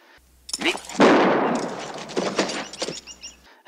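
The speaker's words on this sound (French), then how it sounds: "Billy se retourne et il tire avant 10." A gunshot in a western film scene, a sudden loud blast that swells into a long rumbling, echoing tail and fades over a few seconds, with no talk over it.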